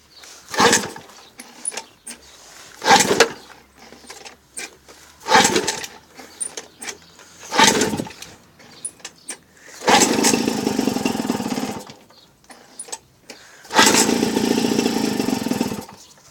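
A small petrol engine is started on choke with the fuel turned on: several short pull-start bursts, then two longer sputtering runs that die out, close and fairly loud with quiet gaps between.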